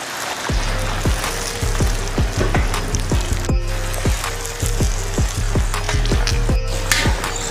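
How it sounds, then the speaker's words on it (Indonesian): Dough frying in hot oil gives a dense, steady sizzle close by, with a regular series of sharp clicks and taps running through it. "Oke, sekarang semua kita goreng ya."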